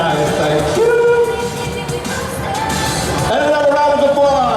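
A convention audience at a panel claps and cheers in a sustained, loud wash of applause with whoops, while a voice talks over the crowd.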